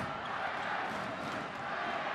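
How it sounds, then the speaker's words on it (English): Thai crowd at a basketball game, a dense steady roar of cheering voices filling the arena, continuous and fairly distant. "Thailand crowd coming to life."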